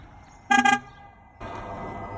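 A short, bright electronic tone from an electric car's pedestrian alert sounds twice in quick succession, fairly loud, followed by a steady rushing noise.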